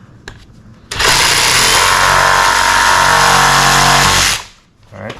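A power tool cross cuts running board trim on a Lexus GX 470, a loud, steady, high buzzing whine lasting about three seconds before it cuts off, with brief handling clatter before and after.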